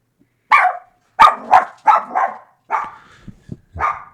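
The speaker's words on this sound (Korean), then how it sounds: "저희 집 강아지가 또 짖고 있네요." A pet dog barks several times nearby indoors, with sharp, irregular barks and short pauses between them, plus a few soft thumps.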